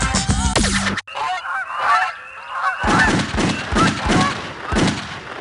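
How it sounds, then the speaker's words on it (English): A flock of geese honks loudly and continuously in the trivia game You Don't Know Jack, preceded by a brief burst of game sound effects, with overlapping calls throughout. "or a flock of geese?"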